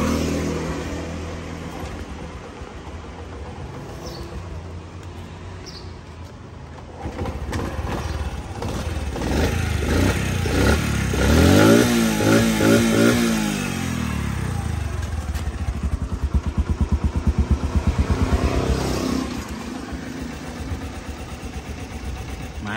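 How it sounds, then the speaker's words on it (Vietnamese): A red-decal 1998 Honda CD 50 motorcycle with about 2,000 km on it starts up, idles, then revs through several rising and falling bursts up close before settling back to a steady idle. "Giờ em test máy cho mọi người nghe nha"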